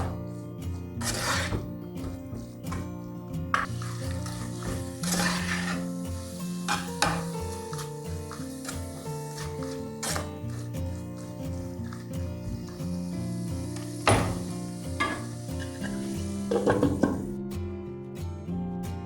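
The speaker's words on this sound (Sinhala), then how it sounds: "දැන් මේ කුකුල් මස් ටික මෙන්න මේ විදිහට මේ ලුණුත් එක්ක කලවම් කර කර මේක විනාඩි 10ක් 15ක් විතර හොඳට කරගන්න ඕනේ." Chicken pieces are stirred with salt in a frying pan, a steady sizzle under repeated scraping and clanking of a utensil against the pan, with occasional louder knocks.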